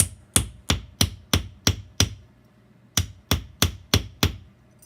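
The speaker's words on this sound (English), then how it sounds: "I'm creating a twist of the metal as I'm hammering" A hammer strikes copper leaf metal on an anvil, giving eleven sharp, ringing blows in an even rhythm with a short pause in the middle, close and loud.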